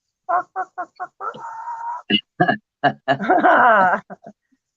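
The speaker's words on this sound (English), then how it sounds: "listen to the first chicken." Backyard chickens clucking close by, a run of short rhythmic clucks followed by longer drawn-out squawking calls, loud and clear against a quiet background.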